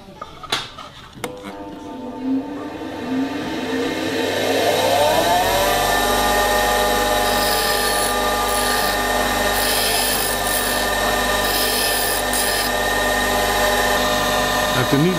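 After a few knocks, a metal drill spins up and bores steadily into steel with a continuous grinding whine that holds at the same loud pitch.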